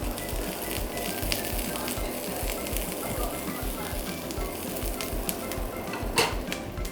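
Onions sizzling in a frying pan as they are stirred, with a dense, steady crackling hiss close by and a brief utensil scrape near the end.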